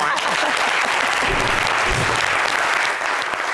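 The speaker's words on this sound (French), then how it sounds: "Non, ça s'applaudit" Studio audience at a French-language Friday variety show breaks into dense, steady applause, loud and close, with a brief voice murmuring underneath partway through.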